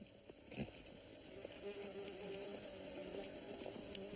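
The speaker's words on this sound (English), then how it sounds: "The store that said Wayman kept bees." Bees kept at a rural farm produce a faint hovering buzz drifting near and away, with soft rustling and ambient outdoor noise, no talking.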